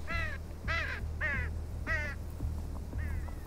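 Video game crows caw in a series of five harsh, descending calls spaced about half a second apart, heard over a low ambient rumble.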